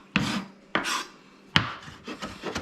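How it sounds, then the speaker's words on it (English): A knife chops lemon zest on a board in a few sharp raspy strokes, irregularly spaced, close and fairly loud. "So just chop, chop, chop, chop, chop. It's always good to have a nice chopping knife."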